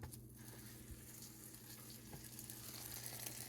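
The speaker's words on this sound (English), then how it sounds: "Do you hear that sizzle?" Soft, steady sizzling of buns with mayo frying in a pan for smash burgers, a quiet continuous crackle with a low background hum and no talking.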